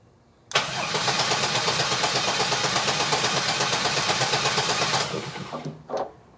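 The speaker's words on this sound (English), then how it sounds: "Crank the engine." A car engine cranks over on a remote starter during a starter voltage-drop test with the fuel relay off, a steady rhythmic churning for about four and a half seconds that then stops, leaving brief clicks.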